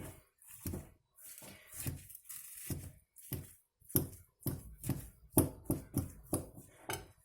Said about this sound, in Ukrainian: Пів кіло сиру нам потрібно розім'яти.